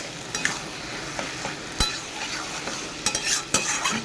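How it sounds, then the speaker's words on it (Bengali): Prawns being sautéed dry in a pan without water for a prawn curry, with steady close sizzling and frying plus repeated sharp scrapes and knocks of a stirring spoon against the pan. "আমি কষে নেবো এইভাবে।"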